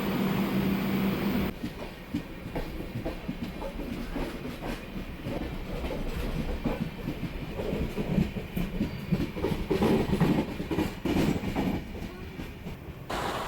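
The Janshatabdi Express on the Mumbai to Ratnagiri route runs along the tracks, with continuous rattling rumble and rhythmic clickety-clack of wheels, heard from inside the moving train at moderate loudness.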